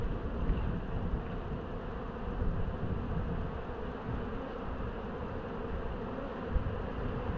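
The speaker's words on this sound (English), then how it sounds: "a lot of these bees are going to go around in a big circle because I'm going to shake them out" Honey bees swarm thickly around an open hive as frames are shaken out during a Taranov split for swarm prevention, a dense, continuous, fairly faint buzzing hum with no voices.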